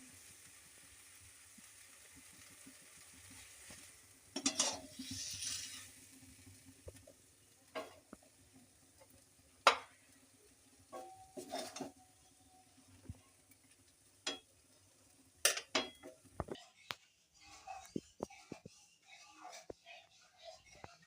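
Maggi noodles with masala are stirred in a pan. A faint background hiss is broken by intermittent scraping and clinking strokes, with quiet, low talk nearby.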